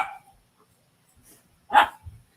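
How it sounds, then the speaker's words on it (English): Playing dogs give a sharp bark, with a fainter yip before it and softer noises after, moderately close in an otherwise quiet space. "Y'all hear my dogs? They playing up a storm."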